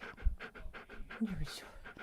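A dog pants rapidly and rhythmically right against the microphone, close, breathy huffs repeating steadily, with a voice briefly audible in the background.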